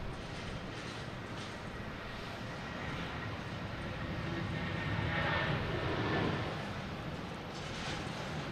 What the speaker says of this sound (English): It's United Airlines 757 heading to San Fran